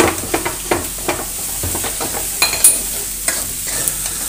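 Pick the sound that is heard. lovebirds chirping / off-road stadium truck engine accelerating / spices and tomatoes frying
spices and tomatoes frying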